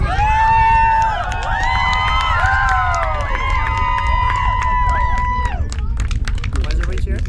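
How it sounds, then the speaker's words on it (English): Crowd cheering and clapping at a rocket launch viewed from a causeway, a loud sustained roar of voices with whistles and shouts, people talking nearby amid the noise. "Why is everybody cheering?"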